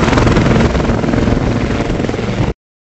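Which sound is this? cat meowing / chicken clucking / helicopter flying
helicopter flying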